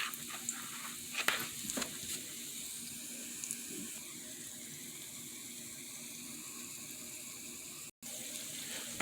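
Fritters for a Jamaican breakfast fry in a pan on a low stove, giving a faint, steady sizzle with a few soft clinks and stirring sounds early on.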